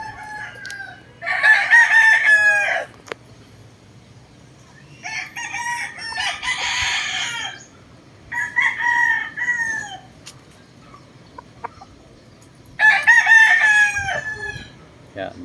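Several prominent rooster crows, four separate calls spaced a few seconds apart, loud and fairly close among other chickens at a gamefowl yard, with a faint low background hum between calls.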